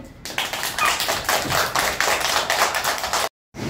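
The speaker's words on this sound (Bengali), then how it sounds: "এবার হাততালি দাও সবাই।" A group of children at a school birthday celebration clapping their hands together, rapid, fairly loud, steady applause that stops abruptly near the end.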